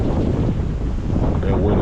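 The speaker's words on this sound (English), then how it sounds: "that wind is ridiculous." Strong wind buffets the microphone outdoors at a church during pressure washing, a loud, rumbling roar that gusts continuously throughout.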